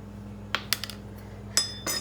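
Eggs with a tablespoon of water being mixed in a small bowl, giving a handful of sparse, light clinks of utensil against the bowl, quiet and close, with short gaps between strokes.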